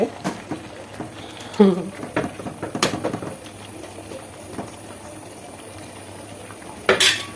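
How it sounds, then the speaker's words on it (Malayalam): A pot of fish curry bubbling and simmering on the stove, with scattered soft pops and a few sharper clinks, fairly close, no voices. "കറി തിളച്ചുകൊണ്ട് നിൽക്കുന്നത്"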